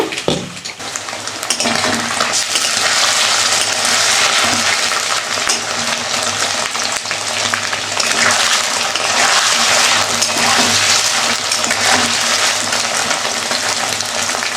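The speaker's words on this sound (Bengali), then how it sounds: "পনিরটা ভাজা হয়ে গেছে, এবার নামিয়ে নিচ্ছি" Paneer fries in oil in a pan while cooking a vegetarian potato, pea and paneer dish, giving a loud, steady sizzle that fills the whole stretch without pause after a brief quieter start.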